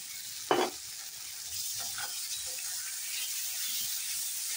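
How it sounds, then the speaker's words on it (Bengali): Spices for a paneer curry hiss and sizzle softly in a pan, with a sharp scrape of stirring near the start and a quiet, steady frying sound after it. "দিয়ে ভালো করে নেড়ে নিচ্ছি"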